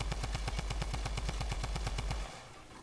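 Rapid automatic gunfire from a not very accurate weapon in a video game, a steady burst of roughly fifteen evenly spaced shots that stops abruptly, loud and alone.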